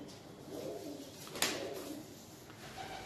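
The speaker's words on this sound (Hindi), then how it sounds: "डिमा रहे हैं जी कबूतर।" Punjabi Malwai pigeons coo softly nearby against a quiet background, with a brief sharp click partway through.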